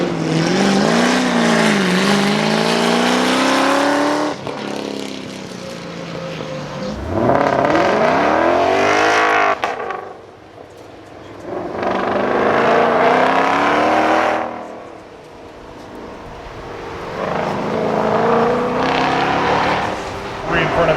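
Race cars at the Carlisle Ford Nationals street shootout roar loudly on track, engines rising and falling in repeated revving sweeps as they brake hard and accelerate out of turns, with a voice talking over the noise.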